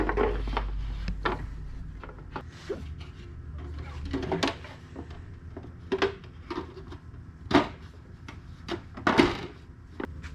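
A few soft wooden knocks and thuds, with a soft-close kitchen cabinet door easing shut on its own near the end, quietly against a low workshop background.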